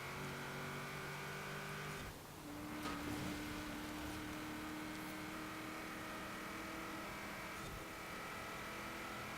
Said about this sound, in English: Really do like the sound of this engine.